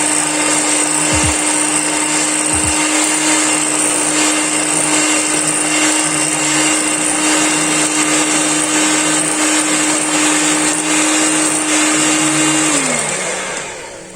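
An electric beater whips coffee for a homemade cappuccino, whirring loud and steady at a constant pitch for about thirteen seconds after two brief clicks, then winding down as it switches off.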